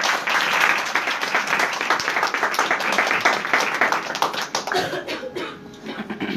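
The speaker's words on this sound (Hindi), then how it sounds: "जोरदार तालियां इस बच्ची के लिए।" Church congregation applauding a young girl, a dense, steady wash of many clapping hands held at full level for several seconds before thinning slightly toward the end.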